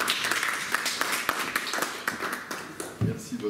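Lecture audience clapping for the speaker after a talk, a brisk patter of applause, moderately close and fairly soft, with a voice speaking briefly near the end.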